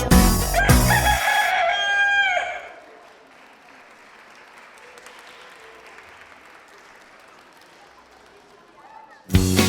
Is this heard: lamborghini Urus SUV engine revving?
no